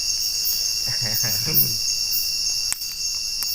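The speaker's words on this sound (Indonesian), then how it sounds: "suasana yang sadu, tenang, suara-suara jangkrik" Steady, high-pitched cricket chirping fills the background throughout, with a brief low voice murmuring near the start and a faint click later.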